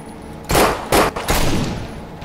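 Gunfire in the zombie video game No More Room in Hell comes as a few loud, close bursts in quick succession.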